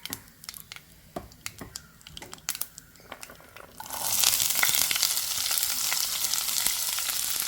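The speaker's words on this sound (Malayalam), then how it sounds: "ഇവിടെ എടുത്ത് വെച്ചിട്ടുള്ള അണ്ടിപ്പരിപ്പ് മുന്തിരി പച്ചമുളക് ഇഞ്ചി സവാള ക്യാരറ്റ് ഇതെല്ലാം കൂടെ നമുക്ക് ഒന്ന് ഇട്ട് കൊടുക്കാം" Cashews, raisins, green chilli, ginger, onion and carrot hit hot oil for upma. After a few quiet clicks and stirs, a loud, close sizzle bursts up and keeps crackling steadily.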